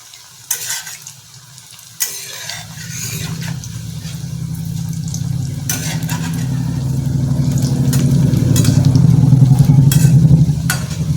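Bottle gourd peel pakoras frying over medium heat, a steady oily sizzle that swells louder through the clip, with a couple of sharp clinks of a utensil against the pan early on and no voices.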